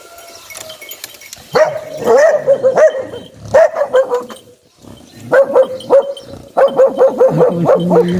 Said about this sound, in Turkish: Bizim bütün videolarımızda çıkan havlama sesi bu ikisinin sesi.